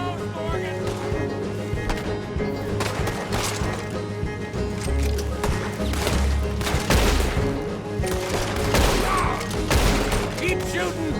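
Rapid gunfire in a Western shootout in Red Dead Redemption 2, loud overlapping shots and bursts cracking repeatedly over a rumbling background with game music, sustained throughout.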